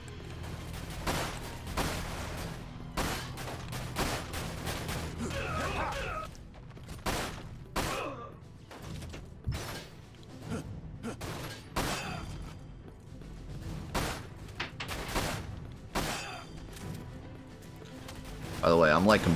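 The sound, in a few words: gunfire in the video game Dirge of Cerberus: Final Fantasy VII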